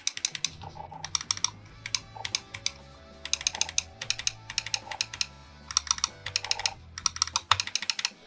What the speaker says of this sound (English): This has a very unique click on the mouse.